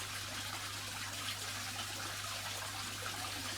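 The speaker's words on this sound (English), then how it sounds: "But try and get the water in nice and slowly." Water pours steadily into a fish breeding tank for cardinal tetras, a continuous close, even rush and trickle with a low hum underneath.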